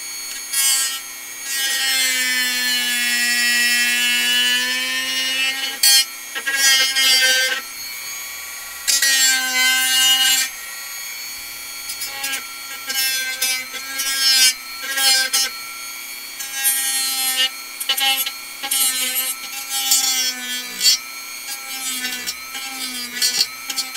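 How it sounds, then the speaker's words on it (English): Dremel rotary tool grinding into wood, a high whining buzz that holds steady at first, then breaks into many short, stop-start passes, close and loud with no talk. "Dremel time."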